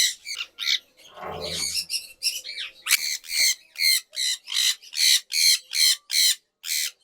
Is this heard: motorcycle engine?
no